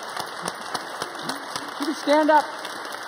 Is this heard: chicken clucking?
no